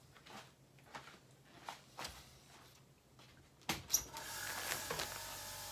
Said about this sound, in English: Next thing is to go and switch the vacuum on.